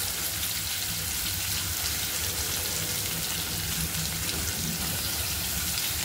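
Chopped onion dropped into hot oil with roasting garlic while cooking a red chili vegetable dish, giving a steady, dense sizzle and crackle that runs evenly throughout with no talking.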